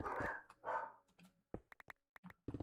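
A dog barks in Minecraft, starting with a couple of longer yelping calls, then a quick run of short, sharp barks with brief silent gaps between them.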